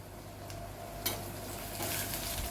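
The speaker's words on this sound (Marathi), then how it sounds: "आता एक छान परतून घेऊ बारीक गॅसवरच परतून घ्यायचं" Home-made masala, coriander powder and turmeric sautéed on a low gas flame, a soft steady sizzle with a few light scrapes of a spoon against the pan.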